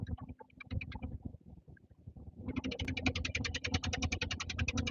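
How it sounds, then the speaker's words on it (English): A truck engine rumbles while driving, with a rapid, regular ticking from a leaking exhaust manifold gasket running through it, close and steady. "the clicking noise, I have an exhaust manifold leak that I need to get fixed"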